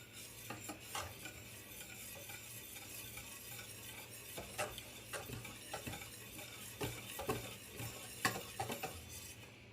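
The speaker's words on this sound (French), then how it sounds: "avec la farine, vous allez mettre des cuillères petit à petit en mélangeant" A spoon stirs flour, added a spoonful at a time, into chocolate cake batter, giving a steady run of soft scraping and rubbing strokes with occasional light clinks against the bowl, close by and with no voices.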